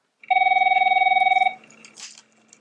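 An office telephone rings once with a loud, close electronic trill lasting just over a second, followed by a short faint rustle or clatter and then quiet.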